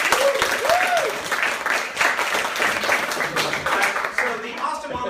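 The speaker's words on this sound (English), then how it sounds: "now if you've never seen an Austin Monologue Jam before, please clap your hands." An audience at an Austin Monologue Jam claps hands together in a sustained round of applause, with a voice and whoops rising over the dense clapping throughout.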